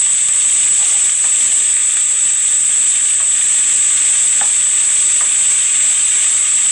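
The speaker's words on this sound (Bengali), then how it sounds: "রসুনটাকে ভেজে শাকগুলো আমি দিয়ে দিলাম" Radish greens sizzling in a pan with fried garlic, a steady loud hiss of frying that runs without pause, with a few faint stirring clicks.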